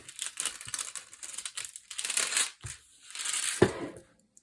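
Crisp crinkling and snipping of plastic sheeting, a few bursts of crackly cutting close to the mic, ending with a sharper snap.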